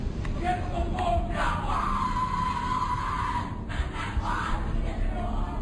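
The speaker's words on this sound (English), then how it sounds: "What you're hearing is the first recording ever made of the Skull and Bones initiation ceremony." A crowd of voices shouts and yells at a Skull and Bones initiation ceremony in a muffled, distant recording, with bursts of chanting rising and falling over a hissy background.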